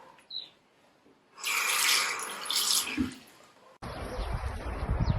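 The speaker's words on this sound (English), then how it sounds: "Close the tap while you're washing your hands." A tap runs with a steady rushing splash of water, starting after a quiet moment, briefly interrupted, then resuming as a rougher gush close by.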